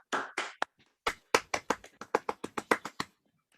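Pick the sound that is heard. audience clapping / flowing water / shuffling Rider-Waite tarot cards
audience clapping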